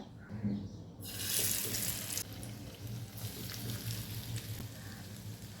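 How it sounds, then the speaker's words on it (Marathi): Chicken leg pieces drop into hot oil in a pan and fry with a loud, steady sizzle and hiss that starts abruptly and holds close by, with no one speaking. "लेग पीस फ्राय करण्यासाठी पॅन तापत ठेवला आहे. 2 चमचे तेल टाकूया. तेल गरम झाले. लेग पीस टाकूया."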